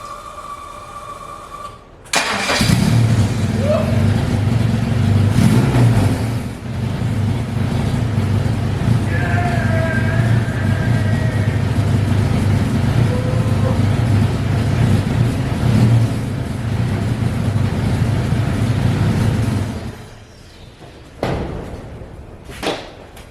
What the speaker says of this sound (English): Not only started, it idles smooth.